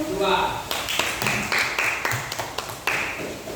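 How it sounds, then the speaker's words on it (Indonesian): Students in a classroom clap for a presenting group, a short burst of close, uneven hand claps with a few sharp individual slaps, under a teacher's voice. "Tepuk tangan untuk kelompok 2."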